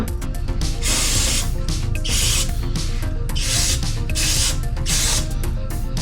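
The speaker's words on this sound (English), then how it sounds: "I'm pretty content to just spray out the passages" Carb cleaner is sprayed into the passages of a Holley carburetor in loud, close, hissing bursts that repeat with short gaps between them.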